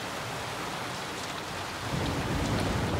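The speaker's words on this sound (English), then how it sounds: "Okay, so we're still raining." Steady rain falls in a dense, even hiss that thickens in the second half as it grows heavier, with no voices present.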